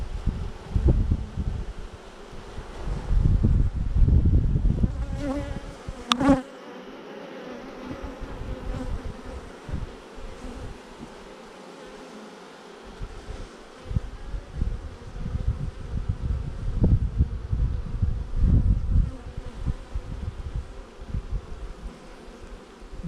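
Honey bees being installed into a new hive, a dense continuous buzzing swarm close to the microphone, swelling louder in bursts as smoke is puffed in, with scattered wingbeat drones and brief rustling throughout.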